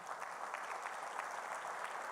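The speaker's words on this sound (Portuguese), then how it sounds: "Mais um aplauso para o Papai do Céu." A church congregation applauds in a steady, dense wash of many clapping hands, fairly distant and even in level throughout, with no speech over it.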